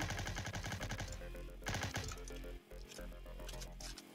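Rapid video game gunfire rattles in dense bursts over loud game music and effects, continuous and close throughout.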